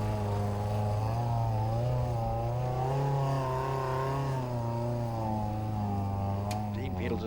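A 4x4 trials vehicle powered by a 2-litre Toyota Celica engine labours steadily nearby, its revs rising and falling in a sustained drone while people talk over it.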